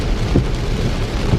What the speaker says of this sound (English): that's definitely raining heavier than I want to be out walking in